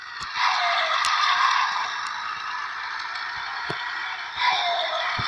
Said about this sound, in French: Ben, en fait, ça, c'est le turbo.